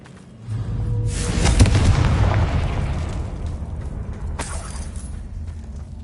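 Confringo blasting spell detonating in a Harry Potter video game: one loud booming explosion with a rolling, crackling tail that slowly decays, then a sharp burst of sparkling noise a few seconds later.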